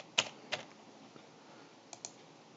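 A few sharp keyboard key clicks, two close together early and two more near the end, fairly faint against a quiet background.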